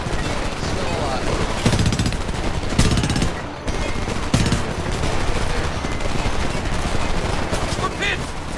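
Sustained machine gun fire rattles through a Homefront combat scene, dense bursts of rapid shots layered with other gunfire and battle noise, with a voice speaking over the din.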